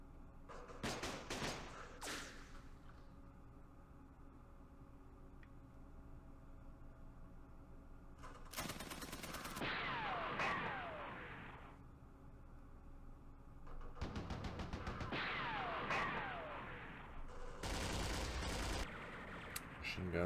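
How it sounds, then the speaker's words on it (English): Bursts of machine gun fire in the Vietnam war game Campaign Series Vietnam, set at Khe Sanh Village in 1968, several separate rattling volleys spaced across the stretch with quieter gaps between them. "Machine guns."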